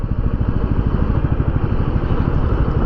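A 2021 Royal Enfield Classic 350 BS6 single-cylinder motorcycle lugging along at 35 kph in fifth gear, its engine thumping in a loud, steady low rhythm close by.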